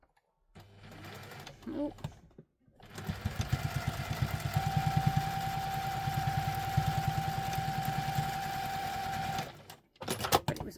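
A sewing machine stitches along the sides of a handmade fabric wallet in one long, steady run of rapid needle clatter with a whining motor tone, preceded by short bursts and a brief spoken exclamation.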